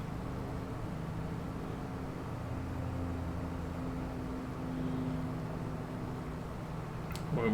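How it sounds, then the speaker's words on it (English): A tractor engine in Farming Simulator 22 labouring under load on the way back to the farm, a low steady drone with a sustained hum, continuous and even, ending in a brief sharp click. "This is a little bit of a struggle for this tractor."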